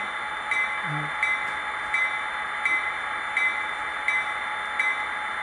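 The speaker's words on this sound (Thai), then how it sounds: "ฟังก์ชันที่ 1 เสียงระฆัง ระฆังก็จะเป็นระฆังแบบ ระฆังแบบเก่านะครับ" A small, bright old-style bell on an HO scale EMD SD40-2 model locomotive with a LokSound decoder dings repeatedly at an even pace, about once every seven-tenths of a second, over a faint steady hiss.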